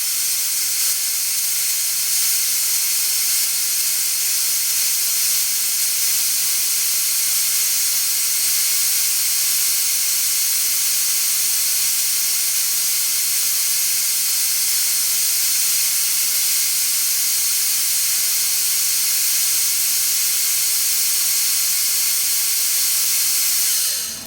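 Spray gun steadily coating dry Massey Ferguson TEA20 tractor parts in grey paint, a continuous loud airy hiss running unbroken for the whole stretch with no talk.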